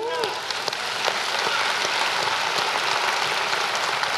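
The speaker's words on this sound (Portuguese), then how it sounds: "Aplaude a Jesus." Church congregation applauding, a continuous dense patter of many hands at moderate level with a voice briefly rising over it early on.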